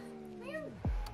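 A person's voice imitates a cat's meow once, a rising and falling call in the middle, followed by a louder low thump or knock near the end.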